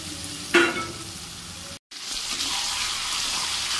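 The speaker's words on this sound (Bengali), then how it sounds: "এবারে ম্যারিনেট করা চিকেনটা দিয়ে দেবো।" Marinated chicken dropped into hot oil with fried spices, a sharp burst of sizzling and stirring followed by a steady frying hiss, close by, with a brief dropout midway.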